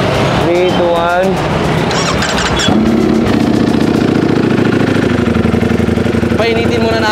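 A Ducati Streetfighter V4S with an upgraded muffler idles and warms up, settling into a loud, steady, close rumble after a few seconds of voices and mixed noise at the start.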